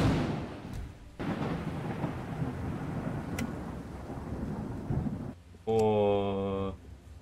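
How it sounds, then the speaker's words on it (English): Thunder from a lightning strike in a city-building game booms as a sustained low rumble over several seconds, followed by a short bright tonal game alert near the end. "This building was destroyed by a lightning strike and is not repairable."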